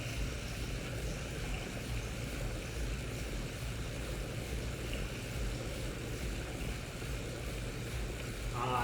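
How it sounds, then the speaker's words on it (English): Waterfall rushing in a VR cycling game, a steady broadband roar of falling water filling the scene evenly, with no talking. "Ah, it goes behind the waterfall."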